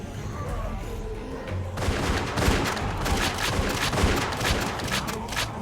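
Gunfire in The Walking Dead video game: after a quieter opening, a dense, loud burst of rapid shots and booms continues without a break for several seconds, with no voices heard.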